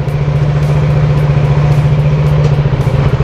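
A motorcycle engine idles steadily at close range while its exhaust is checked, a constant low droning hum with a fast pulsing beat and no talk.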